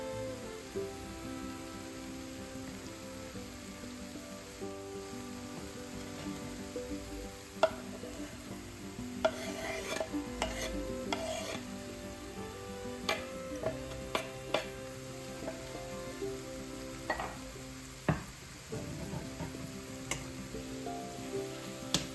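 Vegetables softening in a pan sizzle quietly while a utensil stirs and scrapes in intermittent clicks and taps, fairly faint and with no talk.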